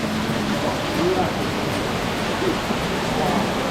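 A constant roaring rush of falling water from a waterfall at Watkins Glen State Park fills the air, loud and close, with faint voices buried underneath.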